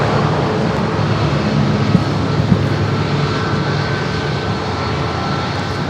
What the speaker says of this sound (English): Up next, the Southwest 737 700.